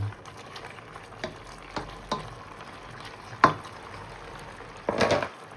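Chicken liver and gizzards adobo frying in a pan after soy sauce goes in, a steady low sizzle with several sharp stirring scrapes and clatters, one louder burst near the end.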